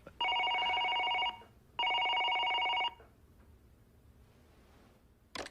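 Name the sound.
telephone ringing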